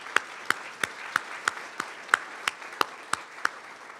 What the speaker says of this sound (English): Let's give all these sponsors a great round of applause.